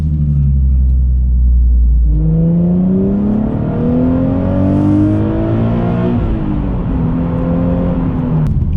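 A Nissan Z sports car drives toward a garage, its engine rumbling steadily near and loud, with rising and falling revs as it pulls away and shifts through gears, no voices present.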